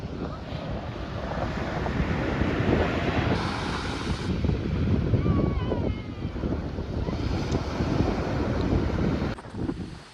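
Waves surging and washing on the shore under heavy wind buffeting the microphone, with a faint voice in the background.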